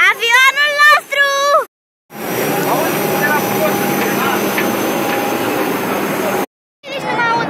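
Jet engines of a passenger airliner heard up close on the ground beside the plane, a loud steady roar and whine filling the middle of the clip between bursts of people talking.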